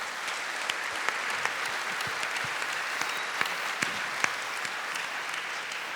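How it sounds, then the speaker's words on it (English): An audience at the Isle of Man TT 2017 press launch applauds steadily, a dense even wash of clapping with a few sharper nearby claps standing out, no speech over it. "I'm getting all the clapping for him running the bike in the colours."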